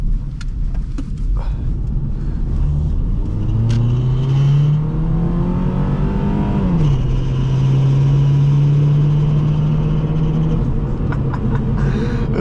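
A 2003 Subaru Impreza wagon's engine revs up, its pitch climbing smoothly, then easing off and holding a steady drone; loud and close, with road rumble beneath.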